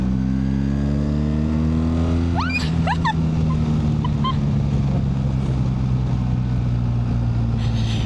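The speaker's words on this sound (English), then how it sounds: "This engine sounds great." Steady engine drone from a 2025 BMW R 1300 GSA adventure motorcycle while riding, a low, even hum held at modest revs, with a few brief chirping sounds mixed in partway through.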